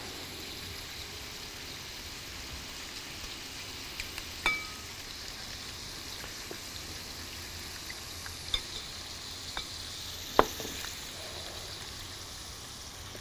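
Food frying in olive oil in a pan, a steady soft sizzle throughout, with a few faint clinks of a utensil stirring, heard up close with no talking.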